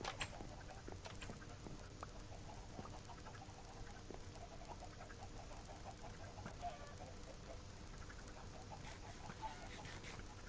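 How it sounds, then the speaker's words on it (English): Minecraft chickens clucking faintly and repeatedly in the game, scattered soft squawks over a steady low background hum, with no one talking. "you can listen to the chickens being slaughtered below you"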